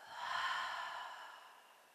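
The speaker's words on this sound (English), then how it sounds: "And breathing out of your mouth." One long, soft breath out through the mouth during a mindfulness exercise, close and airy, rising quickly then slowly fading over about two seconds.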